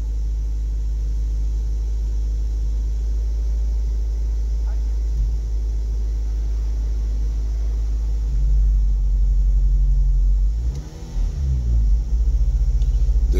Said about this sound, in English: There is a little bit of misfire also.